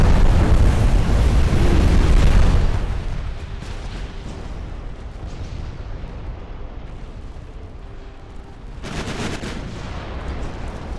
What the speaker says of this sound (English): Oh damn, she just had big explosion.